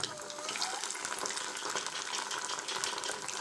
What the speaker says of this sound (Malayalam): ഒരു മൂന്നെണ്ണം നമുക്ക് ഇട്ട് കൊടുത്ത് നമുക്ക് പൊരിച്ചെടുക്കാം